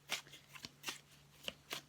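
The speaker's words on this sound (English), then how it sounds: "I'm just going to keep shuffling so we can get into your reading." Oracle tarot cards being shuffled by hand, a run of crisp papery riffles and slaps in quick irregular bursts, close and clear with no talk.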